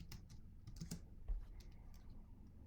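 Fingers type a terminal command on a Mac keyboard, a faint, close run of irregular key clicks and taps with a slightly heavier press near the end.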